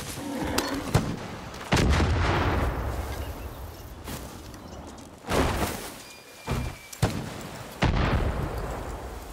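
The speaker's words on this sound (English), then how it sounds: "A lot of explosions going on around me." Explosions in the video game Far Cry: New Dawn go off in a series of loud, sharp blasts, with several bursts spaced apart and trailing rumbles and debris between them.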